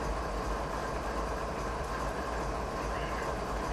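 A BNSF ES44DC diesel locomotive in a train video game, hauling double-stack containers uphill on Marias Pass, Montana, gives a steady low engine drone with a faint rolling rumble, loud and continuous, with no talk over it.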